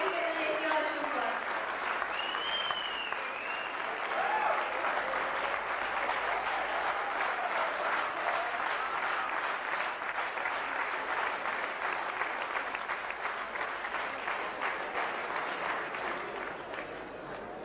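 Graduation ceremony audience at a university in 2000 applauding, a dense, continuous wash of many hands clapping that sustains evenly for the full stretch, heard from within a large hall at moderate volume.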